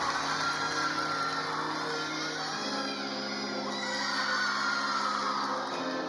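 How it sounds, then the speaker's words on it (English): Gymnastics teammates cheer and shout from the sidelines during a college floor routine, a sustained high, excited crowd roar with whoops rising and falling throughout. "You can see her teammates really cheering her on"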